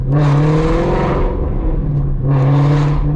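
Loud Ford Mustang GT350 with catless midpipes, its exhaust roaring steadily through a low rumble that swells, dips briefly, then surges again, close and with no talk.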